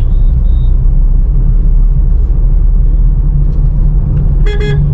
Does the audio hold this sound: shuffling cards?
no